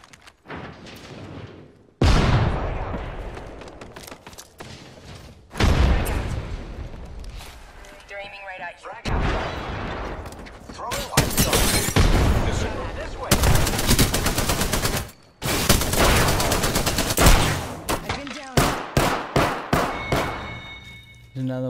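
Rapid gunfire in the video game Apex Legends, with repeated sharp automatic bursts and single shots coming in dense clusters, loud and close, under players talking.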